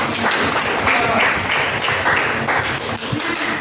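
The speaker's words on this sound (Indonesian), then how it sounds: "Kelompok 4 tepuk tangan" A class of students in a classroom applauds group 4 after its presentation on ecosystems, giving a steady wash of clapping that lasts throughout and holds an even level without pauses.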